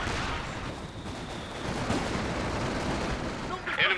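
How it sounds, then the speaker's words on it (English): Dense battlefield gunfire in Company of Heroes 2 rattles continuously, with machine-gun bursts and distant artillery-like rumbles blending into a loud, steady wall of combat noise. "Hands are firing back, but taking a few shots."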